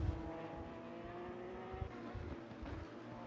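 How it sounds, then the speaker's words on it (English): Porsche GT3 race car in Assetto Corsa Competizione, driven in a sprint race at the Nürburgring, holds a steady sustained engine drone with slight tyre and revving fluctuations as it slides through a drift. "Turning the Porsche into a drift"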